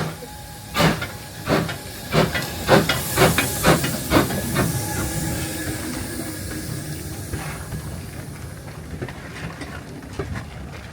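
A home-fleet steam locomotive on a heritage railway lets off a loud, steady hiss of steam, with several sharp chuffing bursts early on before the hiss settles into a continuous roar.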